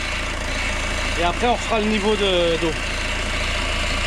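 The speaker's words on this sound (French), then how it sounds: "Ce bruit que tu entends, c'est la direction assistée qui manque un peu d'huile." A Citroën Berlingo 2.0 HDI diesel idling steadily with the power steering low on oil, a constant low engine drone throughout while someone speaks briefly over it.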